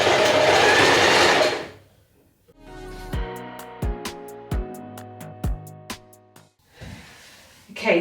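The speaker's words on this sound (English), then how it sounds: "we're just going to straight stitch the lace trim onto the panel." A sewing machine straight-stitching lace trim onto a fabric scrunchie panel, heard as a run of clattering needle strokes with sharp knocks, starting after a loud burst of noise and ending with another.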